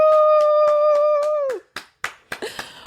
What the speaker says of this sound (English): Round of applause, family.